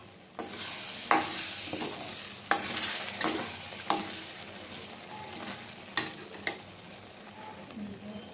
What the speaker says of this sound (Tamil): திறந்து வச்சு கிண்டிக்கிட்டே இருங்க.